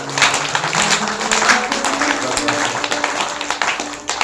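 Audience at a devotional Bhagavat katha gathering clapping hands steadily and loudly, a dense continuous patter with a few voices mixed in.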